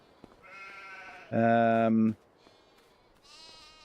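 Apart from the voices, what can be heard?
sheep bleating in Farming Simulator 25 video game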